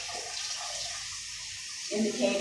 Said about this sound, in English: Keep rinsing until the water comes out clear